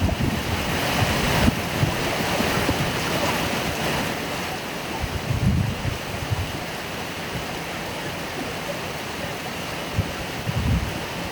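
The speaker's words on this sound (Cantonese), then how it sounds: "成日都落緊呢啲雨" Rain falls in a constant, dense hiss, loud and near, with a few brief thuds and bumps mixed into the steady roar.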